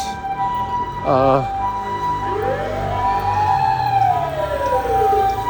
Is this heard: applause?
no